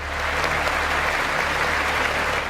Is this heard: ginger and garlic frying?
no